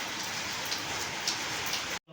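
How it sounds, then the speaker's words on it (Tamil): Heavy rain pours down in a dense, steady hiss of drops hitting surfaces, then cuts off abruptly at the very end. "மழை பார்த்தீங்களா? பிரித்து மேய்ஞ்சிட்டு இருக்குது எங்கள் ஊர்லலாம்."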